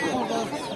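Roosters and hens cluck and squawk densely and loudly at close range at the Sabunchu poultry market, filling the short moment with overlapping bird calls.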